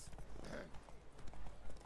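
Horse hooves galloping in a race in The Witcher 3, a quick irregular clip-clop of hoofbeats, faint and muffled under low game ambience.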